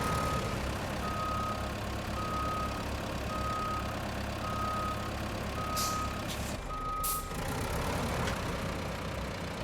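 A big truck in the Road Craft video game reverses while turning around, with regular reversing beeps sounding about once a second over a loud, steady diesel engine drone and a hiss of air near the end.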